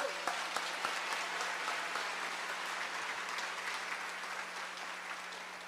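A church congregation applauds during a sermon, a burst of clapping with a few sharp claps standing out at the start, then gradually tapering off.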